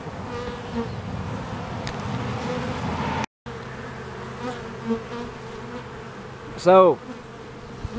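A swarm of bees forms a bee beard, droning in a steady close buzz. A brief dropout breaks it partway through, and a loud nearby insect whines past near the end. A voice says a single word.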